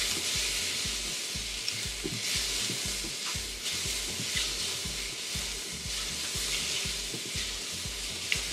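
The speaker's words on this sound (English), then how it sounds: "Add a little bit of oil there. And it's going to toast really fast." Spices toasting in hot oil for a chickpea curry, a loud continuous sizzle and crackle close up, with repeated scraping stirs as they are mixed in, no voices over it.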